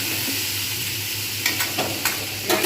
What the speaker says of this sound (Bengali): কুমড়োগুলো একটুখানি ভাজিয়ে হালকা করে ভাজিয়ে দেবো